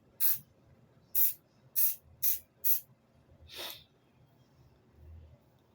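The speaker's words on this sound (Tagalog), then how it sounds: "Ang hirap pala mag-spray na mag-isa." A SEVICH hair color spray can in natural blonde is sprayed in five short, sharp hissing bursts, followed by one longer, softer spray, each close and distinct with quiet pauses between.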